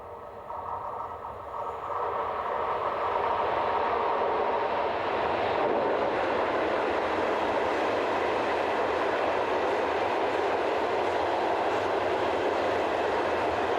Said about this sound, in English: on the Czech side of the border, 363010 heads this southbound coal train